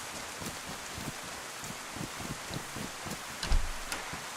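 Rain falls in the survival video game DayZ, a steady hiss of drops pattering on surfaces with faint scattered ticks, continuous and moderately quiet with one brief low thump.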